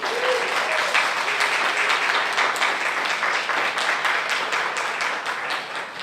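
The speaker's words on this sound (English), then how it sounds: "let's give them a round of applause" An audience at a summer camp awards ceremony bursts into sustained, dense applause that holds steady at full volume for several seconds before tapering slightly, with a few voices briefly audible at the start.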